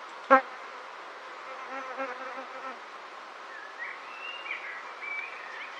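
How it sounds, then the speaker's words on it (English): Small bees buzz around a top bar hive left untouched for three years, faint scattered hums with one sharp close pass near the start and a thin whine drifting in later. "And these are somewhat small bees, I would say."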